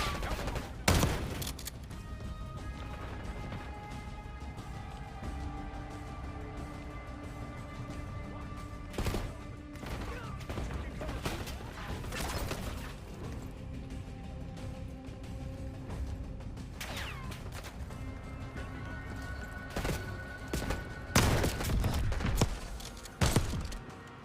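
Rapid bursts of gunfire in Call of Duty Black Ops 6, repeated sharp shots and fusillades over a continuous game background, loud with a few heavier crashing volleys near the end.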